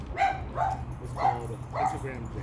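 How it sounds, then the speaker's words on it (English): Four barks from hunting dogs at a steady pace, somewhat distant, while a person speaks over them. "Sorry about the dogs in the background. Those are hunting dogs."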